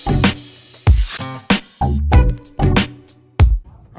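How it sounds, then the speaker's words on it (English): Loud, sharp knocks strike roughly every half second up close, each ringing briefly, with a buzzing, grinding tone underneath, from nearby construction hammering and sawing. "I need to apologize for the construction noise going on in the background of this video."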